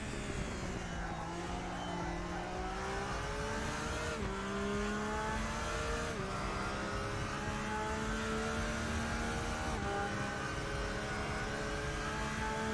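A Porsche race car engine in the sim racing game RaceRoom, droning loud and steady as revs climb, with abrupt pitch drops at upshifts every few seconds, no voices over it.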